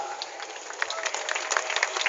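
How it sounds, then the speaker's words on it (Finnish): An audience applauds contestant Jani Niemelä at a competition, a dense patter of many hands clapping steadily throughout, fairly close and with no talk over it. "Jani saikin ihan automaattisesti nuo aplodit tuolta"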